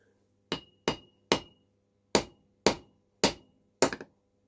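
An OSRAM Concentra 75W 230V E27 incandescent spot bulb is struck seven times in sharp, separate knocks, each fading quickly, in an otherwise quiet space.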